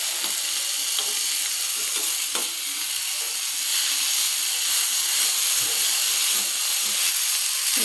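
Food frying in a pan gives a loud, steady hissing sizzle that runs unbroken from start to finish, with faint scrapes of stirring underneath and no speech.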